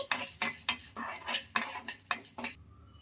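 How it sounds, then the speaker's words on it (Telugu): Chana dal and urad dal frying in a kadai, several sharp spoon scrapes against the metal over a light sizzle, close and uneven, then a sudden stop. "ఒక స్పూన్ దాకా మినప్పప్పు కూడా వేసుకోవాలి ఈ పప్పులు బాగా ఫ్రై అవ్వాలి ఒక నిమిషం పాటు ఇలా ఫ్రై చేసుకోవాలి"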